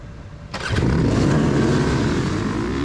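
Motocross dirt bikes, 19 four-stroke riders on the start line at Loretta Lynn's amateur nationals, burst into loud revving after a brief quiet moment, a dense roaring wall of engines that holds steady.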